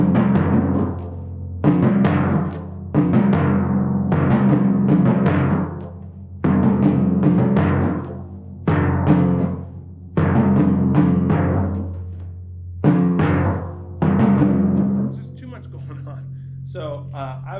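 Timpani struck in a rhythmic pattern with the heads muted after each stroke, producing short, damped booming hits in repeated groups, close and alone.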